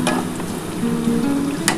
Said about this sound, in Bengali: পেঁয়াজটা কিন্তু লাল লাল করে ভাজা হয়ে গেছে এবার আমি মশলাটা দিয়ে দেবো